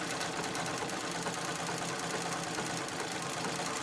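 A sewing machine runs continuously at a fast, even rattling rhythm while quilting fabric for a bag, close and steady without pause.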